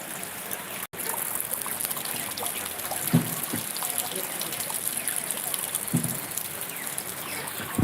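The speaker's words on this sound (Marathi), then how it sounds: "नातपुते शहरात अचानक पाऊस आला आपण बघू शकता कशा पद्धतीने पाऊस पडत आहे" Sudden unseasonal rain pouring down on a town street near a meat market, running water trickling and splashing steadily throughout, with a few brief louder knocks and splashes partway through.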